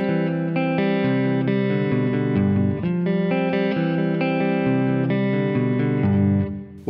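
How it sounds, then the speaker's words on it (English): A Paul Reed Smith S2 Custom electric guitar on a single-coil pickup plays a continuous arpeggio of single notes, bright and slightly crisp, ringing steadily for several seconds with a touch of effect. "single notes played as an arpeggio, it sounds like this"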